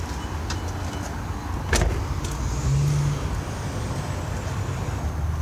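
The headlight motor on a 1988 Pontiac Firebird Formula 350 (third generation) whirs briefly and fairly faintly over a steady background hum. A short click comes just before the whir.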